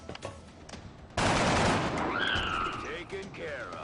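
Sudden burst of rapid gunfire from a soldier's weapon in an X-Com tactical game, a loud sustained volley that starts abruptly and then tapers into ringing tones and scattered echoes.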